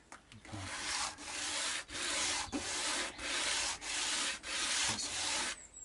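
Sandpaper rubbing a guitar nut in steady back-and-forth strokes, about eight even passes, each a close, raspy scrape with brief pauses between.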